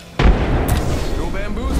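A frag grenade explodes in a video game shooter, with a sudden heavy boom followed by rumbling debris and a short burst of higher crackle, as voices talk over the noise.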